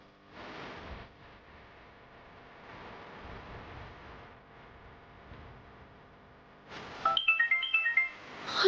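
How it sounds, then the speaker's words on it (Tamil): A telephone ringtone for an incoming call sounds near and loud toward the end, a bright repeating melodic tone that starts after a stretch of low background noise. "ஆசிரமத்திலிருந்து ஃபோன்."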